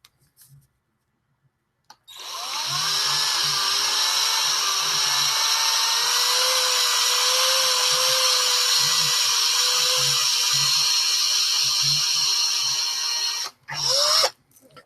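A drill bit boring into metal, a steady high-pitched whine that starts abruptly, holds for about eleven seconds with slight pitch wavers, and then cuts off, followed by a brief restart.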